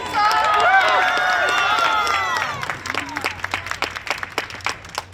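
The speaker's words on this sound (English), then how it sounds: "let us applaud them all!" Applause and cheering from an audience at a New Orleans bicentennial ceremony honoring Lafayette, loud and dense at first with whistles and shouts, then thinning into scattered individual claps.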